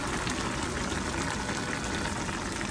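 Nikujaga, meat and potato stew, bubbling hard over high heat in a pot, a steady, soft seething and boiling hiss with no voices.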